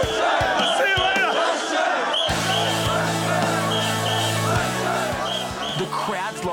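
Large crowd at a Japanese naked man festival keeps up a loud, sustained chant of washoi, with a low droning hum underneath and occasional sharp thuds, rhythmic and close.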